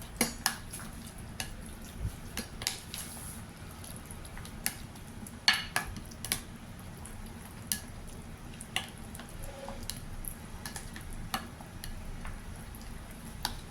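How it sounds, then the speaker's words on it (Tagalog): Eggs being mixed in a bowl with a utensil, producing steady rapid clicks and light taps against the dish, close and continuous. "Next, we need to mix the eggs."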